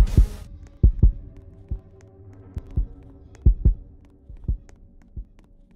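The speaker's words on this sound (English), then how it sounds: "your heartbeat goes up when he's nearby" Heartbeat sound effect from the Roblox-style game Flee the Facility: deep, close thumps in double-beat pairs, repeating steadily over a low hum after a short burst of noise at the start, with no talk.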